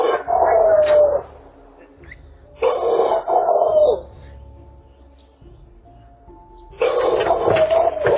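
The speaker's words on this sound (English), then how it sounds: "Dogs entered this homeowner's driveway, scaring this person's grandsons." Several loose dogs roaming into a residential driveway, with three loud bursts of barking and howl-like yelps separated by quieter gaps of low background noise.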